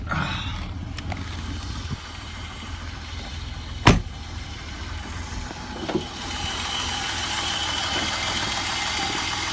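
A 1990 BMW 735iL with the M30 engine idles steadily in the background, a low continuous hum, with a sharp click or thump partway through and a smaller knock later.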